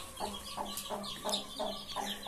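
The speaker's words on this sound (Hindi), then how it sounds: "ये पहली दफा मुर्गी जो है बाहर निकली है अपने बच्चों के साथ" A hen clucks repeatedly in a steady rhythm, with faint high peeping of chicks mixed in, close and moderately loud.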